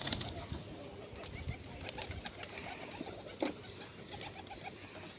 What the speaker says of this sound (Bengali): এই যে পায়রাগুলো ছাড়া আছে, এখানে একটা চটিয়াল মাদিও আছে, তিনটে পায়রা উড়ছেও